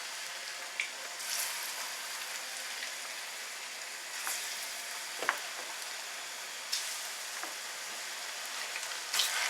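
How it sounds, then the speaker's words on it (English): Food sizzles steadily in hot oil in a pan while gari and black-eyed beans with egg, sardines and shito are cooked, a soft continuous crackle with occasional sharper pops and spits, fairly quiet and close, with no talking. "So how long have you got to fry it, sir?"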